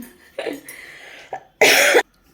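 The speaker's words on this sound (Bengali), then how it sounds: "সরি কাশি হচ্ছিলো" A few short coughs, then a harsher, louder cough burst near the end, close to the listener with no talking.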